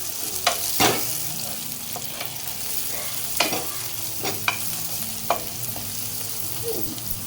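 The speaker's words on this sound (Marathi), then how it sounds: "मस्तपैकी फ्राय करून घेतलेली गवारी ह्याच्यामध्ये घालते" Guar beans stir-fried in spice masala in a pan: a steady hiss of sizzling broken by several sharp scraping strokes of a spoon, close and alone.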